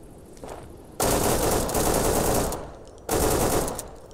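Automatic gunfire in the survival shooter game Deadside, two loud sustained bursts of rapid shots close by, separated by a brief pause, with no talking.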